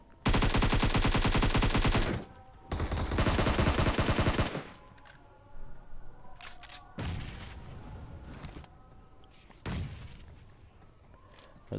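Loud, rapid bursts of automatic gunfire in PUBG Mobile, two long sustained volleys followed by sharper scattered single shots and short bursts echoing at varying distances.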